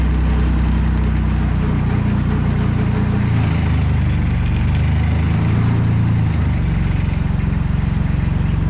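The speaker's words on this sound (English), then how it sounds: "the engine's warm enough now to where it can idle and warm up the rest of the way by itself" Heavy diesel engine of a Giant 1200tele telescopic loader idling after a cold start in freezing weather, a loud, steady low rumble with constant vibration and no talk.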